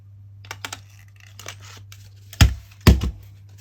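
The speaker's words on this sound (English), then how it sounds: "I'm just folding it in half and gluing that on, and then just cut out that center hole" Paper being folded, glued and cut with scissors to make a center hole: a series of light snips and crinkles, then two louder, sharper cuts near the end, close up with no talk.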